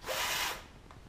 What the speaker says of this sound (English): the drill's actually slipping in the chuck because I haven't timed it up properly